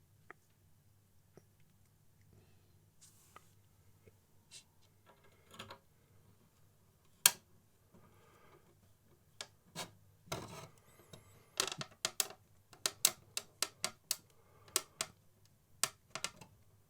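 Screws are driven to fasten the frame of a Batmobile Tumbler model to its back plate, faint scraping and turning giving way to a busy run of sharp, closely spaced clicks and ticks, with no talk.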